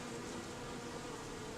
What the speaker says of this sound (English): the bees are crawling in and out of it